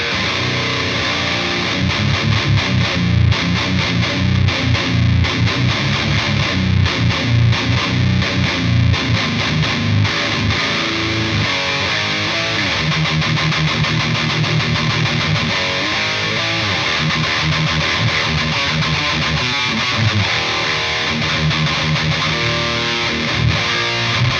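A heavily distorted, high-gain electric guitar through an STL Tonehub amp preset plays chugging riffs and sustained chords, loud and thick with saturated tone throughout.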